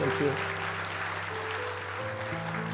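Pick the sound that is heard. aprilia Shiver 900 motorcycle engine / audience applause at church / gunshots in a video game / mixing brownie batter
audience applause at church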